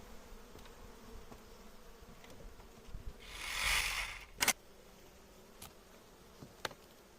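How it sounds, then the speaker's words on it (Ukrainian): A honeybee near the hive gives a faint soft buzz that swells briefly, joined by a few sharp clicks and knocks over quiet outdoor background. "а поки я ходив, ця бджола залізла"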